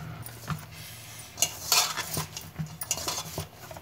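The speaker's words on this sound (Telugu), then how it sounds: "దీనిలా మంచిగా మిక్స్ చేసుకోవాలి." Milk being stirred into flour with a spoon in a bowl to make sweet biscuit dough, heard as close, irregular clinks and scraping taps of the utensil against the dish, repeated steadily over a few seconds with no voices.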